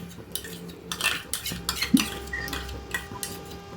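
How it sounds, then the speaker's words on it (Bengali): Metal spoon scraping spice paste for a paneer dish into a wok, a run of close clinks and scrapes against the pan in uneven bursts, fairly quiet with no voices. "এবার এই পেস্টটা কড়ার মধ্যে নিয়ে নিলাম"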